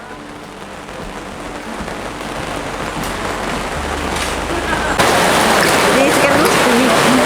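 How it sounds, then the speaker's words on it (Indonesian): Heavy rain pours down outdoors as a dense, loud, steady hiss that grows stronger, while a person speaks briefly over it. "Ini karena hujannya makin deras, saya harus pakai baju hujan"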